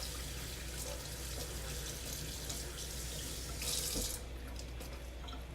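Kitchen tap water runs steadily into a sink while fresh cilantro is rinsed, a close, constant stream with a brief louder splash near the end and no talking.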